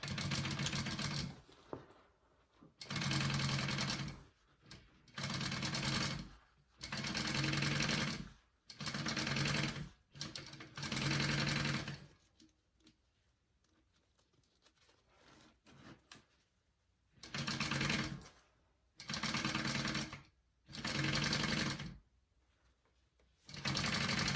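Sewing machine basting a zipper onto a bag pocket, running in repeated bursts of one to two seconds with short pauses between them and a quieter gap midway, close and clear with no talk.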